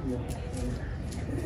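A pigeon coos softly during a pigeon keeper's vlog, low and faint beneath someone talking nearby.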